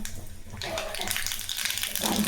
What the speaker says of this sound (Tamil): இப்போது கொஞ்சமாக எண்ணெய் ஊற்றிக்கலாம் கடுகு போட்டுக்கலாம்